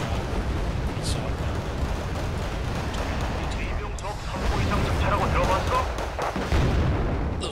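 Heavy 14.5mm guns on BTR armoured vehicles fire in the Wargame Red Dragon strategy game as a dense, continuous rumble of battle gunfire, with booming impacts mixed into the noise throughout.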